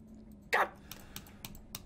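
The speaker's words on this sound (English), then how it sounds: "You can hear me clicking." Mouse and keyboard clicks while playing Resident Evil 7 on a computer: one louder clack followed by several light, scattered clicks, close and quiet with no talking.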